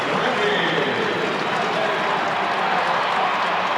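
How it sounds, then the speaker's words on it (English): A Seattle Mariners baseball stadium crowd of about forty-two thousand gives a standing ovation, a broad, continuous roar of cheering and clapping that stays level throughout, heard from within the stands. "Getting a little standing ovation from the Seattle crowd of 42-some thousand tonight."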